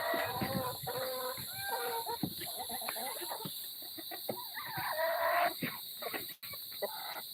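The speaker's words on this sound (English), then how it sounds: "Chickens." Chickens cluck and chatter over a steady background hiss, several birds overlapping at moderate distance with no clear pauses.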